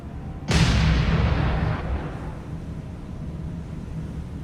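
Battleship guns fire in the naval combat video game War on the Sea, a sudden loud booming blast that rolls into a long rumbling decay and leaves a steady background hum.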